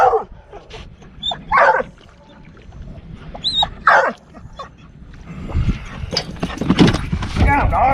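A dog named Lucy moves around on a fishing boat, its claws clicking and tapping on the deck as it barks and whines. Voices talk over it while the boat's hull rumbles underneath.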